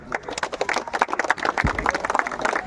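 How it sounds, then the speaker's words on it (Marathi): An audience applauding at a citizens' felicitation ceremony, a steady patter of many hands clapping close by for a couple of seconds, with no voices. "त्याबद्दल खरोखरच टाळ्या जोरात झाल्या पाहिजेत"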